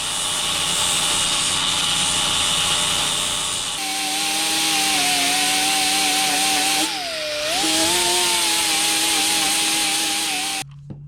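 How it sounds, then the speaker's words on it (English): Power grinder wearing down metal nubs on a Vespa smallframe engine part, a loud continuous high whine that steadies into a sustained tone, dips briefly as the load shifts, then cuts off abruptly. "I just ground off a good millimeter or two off both these nubs here"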